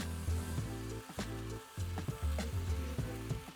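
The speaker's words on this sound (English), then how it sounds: "Now just keep tossing these potatoes and sautéing them well in the oil." Thin potato slices sauté in hot oil in a kadai, a steady soft sizzle broken by repeated scraping and tossing strokes of a spatula against the pan.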